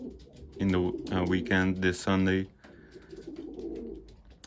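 Racing pigeons cooing in a loft, a cluster of several close, throaty coos in quick succession, followed by quieter murmuring, with someone talking briefly.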